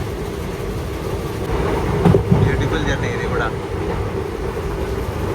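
The Mangalore–Chennai Mail (12602) runs along the seashore past coconut palms, giving a steady, loud rolling rumble of carriages with a brief swell midway, while someone talks over it.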